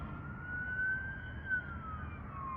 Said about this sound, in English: And we got an ambulance.